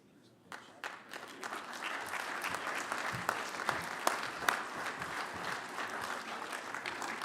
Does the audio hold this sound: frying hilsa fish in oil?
no